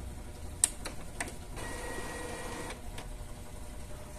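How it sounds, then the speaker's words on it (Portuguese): An inkjet printer powering down, giving a few soft mechanical clicks and ticks followed by a faint whirring run of the print mechanism, quiet and close in a still room. "Pelo painel você tem que desligar a impressora."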